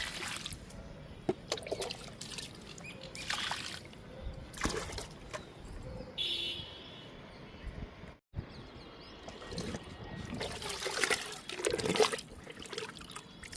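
Liquid fertilizer trickles and splashes onto a guava plant in faint, intermittent pours, with soft handling noises between them.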